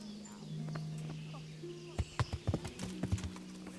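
Horse hooves clip-clopping in the medieval video game Kingdom Come Deliverance, a quick run of sharp close hoofbeats in the second half over a low droning game ambience.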